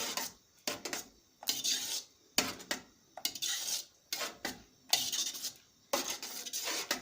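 Ketchup ingredients, including paprika, are stirred in a pot with a spoon: repeated scraping, clattering strokes in close, uneven bursts with brief pauses between them.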